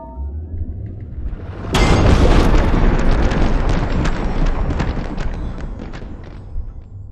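Massive explosion from an orbital laser in Minecraft: a sudden deep boom that breaks into a long, loud rumble of crackling debris and slowly fades over several seconds.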